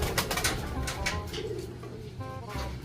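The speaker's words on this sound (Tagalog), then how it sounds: "Ito yung ibon. Napakagandang ibon." A bird calls at close range in a series of loud, tonal, cooing notes that repeat steadily across the short stretch, with no talking over them.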